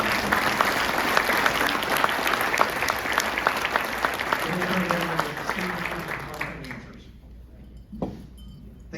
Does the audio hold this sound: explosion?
no